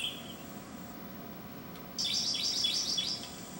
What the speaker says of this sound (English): I had different kids play different bird songs, what it would sound like in the wild